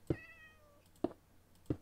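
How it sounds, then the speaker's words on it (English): Cats meowing in the video game Minecraft, three short separate meows spaced about a second apart, the first longer with a drawn-out tail, heard clearly against quiet background. "Oh, I hear the kitties."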